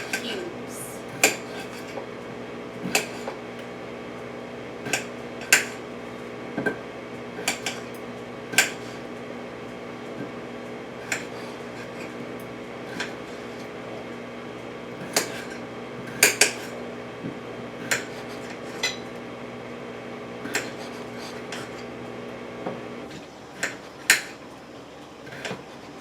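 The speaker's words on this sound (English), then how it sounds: "I'm going to grab a knife and just start chopping them into like cubes." A knife chops food into cubes with irregular, crisp taps and clicks spread over about half a minute, close by over a low steady background hum.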